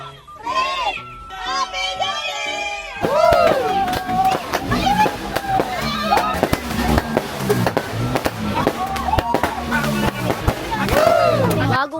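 Sharp crackling bangs and pops from firecrackers and fireworks at a rooftop celebration go off repeatedly under excited voices and shouting, busy and close throughout.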